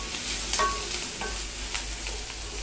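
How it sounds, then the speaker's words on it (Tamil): Garlic and onions sauté in a hot pan during a Tamil manathakkali keerai kootu preparation, with a steady close sizzle and the repeated scrape of a spoon stirring through the pan, no talking. "இது நல்லா வதங்கிடுச்சு."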